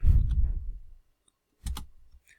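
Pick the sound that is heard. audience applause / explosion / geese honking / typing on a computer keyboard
typing on a computer keyboard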